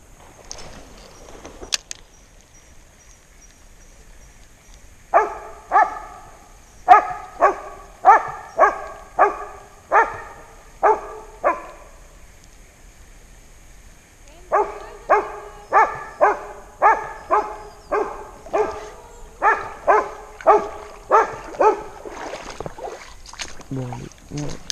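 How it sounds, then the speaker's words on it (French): Dogs bark loudly and persistently near a river crossing, two long runs of rhythmic, evenly spaced barks separated by a short pause, close and dominant over faint background noise. "Les chiens sont devenus méga bruyants là, c'est trop pénible."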